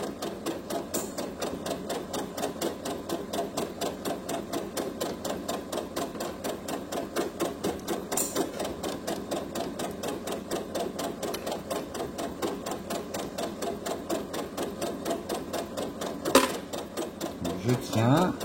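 A sewing machine stitches fabric in a fast, steady run of mechanical clicks, working forward and then back to finish a seam on a small hair scrunchie, close and loud and alone, with one brief thump near the end.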